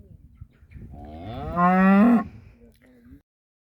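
Cattle being bred on a farm give a single long, loud moo with a rising, strained tone, preceded and followed by quieter barn noises and soft shuffling.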